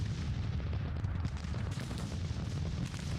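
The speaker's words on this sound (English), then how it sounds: "It's an artillery duel, lads." Artillery fire in Grand Tactician: The Civil War, a dense continuous rumble of distant cannon booms and scattered gunfire rolling steadily throughout with no clear gaps.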